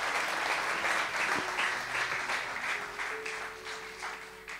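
A church congregation applauds to acclaim the Lord at the close of a prayer gathering, with dense, sustained clapping heard from a little distance. The clapping gradually eases off, and faint voices sound beneath it.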